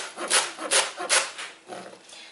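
A knife saws and slices through vegetables on a cutting board for fried rice, about five soft rasping strokes in an uneven rhythm, close and quiet.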